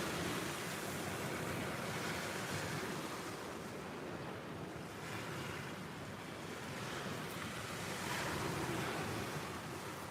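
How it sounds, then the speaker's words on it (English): Strong south-southwesterly wind blowing across a beach, a constant broad roar mixed with surf, steady and fairly distant with no voices. "there's quite a big southwesterly wind on"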